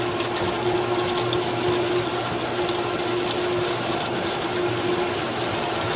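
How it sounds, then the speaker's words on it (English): Water fills a dirty swimming pool filter with a steady, continuous rush and hum, a constant close flow with a faint tonal drone and no voices. "The filter is actually filling with water."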